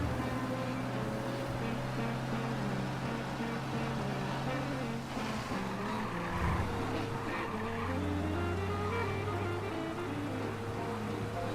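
Car in Mafia Definitive Edition driving with a steady engine hum, the pitch dipping and rising as the car shifts, with a brief skid midway, loud and continuous.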